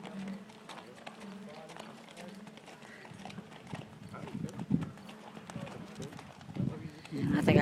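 Hooves of a horse being ridden by a young beginner rider clip-clop in a steady rhythm outdoors, close by, while people talk over them throughout.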